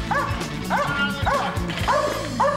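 A police dog on a tracking exercise gives about five sharp, rising yips and barks in an even rhythm, close and loud, with possible faint human voices underneath.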